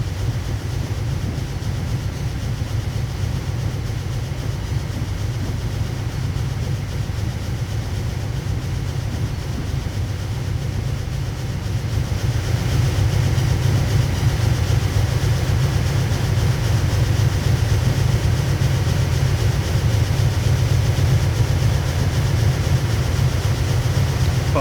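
BR10 steam locomotive from Train Simulator on the Hamburg–Hanover line, a continuous low rumble with steady rolling noise and faint rail clatter, unbroken and fairly loud throughout.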